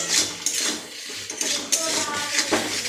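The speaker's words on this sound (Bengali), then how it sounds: "এখানে আমি মশলা কষিয়ে নিচ্ছি।" Tomato, chili, ginger-garlic and onion paste masala being sautéed in a pan, close metallic scraping and clinking strokes of a spatula over a low background fry.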